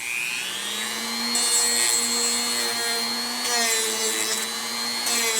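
A Dremel rotary tool works on a handmade ring, giving a steady high-pitched whine with a rising then sustained tone and brief bursts of harsher grinding as the bit bears on the metal; close and continuous, with no talk.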